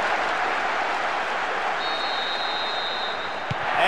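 Stadium crowd in the PES 2009 football video game on PS2 cheering a goal, a steady loud roar filling the whole clip with a faint whistle-like tone partway through.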